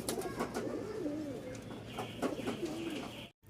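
Pigeons coo softly in repeated throaty calls, several overlapping, steady and moderately close, with a faint background hum.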